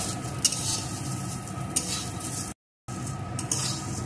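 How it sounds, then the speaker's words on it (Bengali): Cashews and raisins frying on low heat in a pan while making vermicelli payesh, with a steady soft sizzle, occasional stirring scrapes and light utensil clinks, briefly cut to silence. "কাজু আর কিশমিশ। এখন এগুলোকেও একটু ভেজে নেব।"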